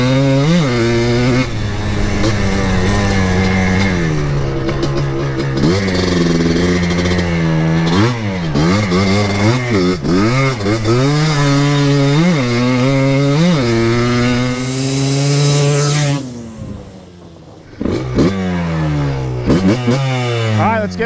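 A ported two-stroke Yamaha Blaster ATV engine revs loudly and close, its pitch sweeping up and down through repeated throttle blips, briefly dropping to near idle before roaring again.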